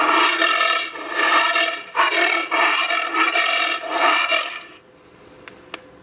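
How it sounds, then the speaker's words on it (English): Recorded bear roar played from a toddler's Raspberry Pi arcade button toy, a loud, gritty, sustained growl lasting several seconds before cutting off, followed by a couple of faint clicks. "Bear."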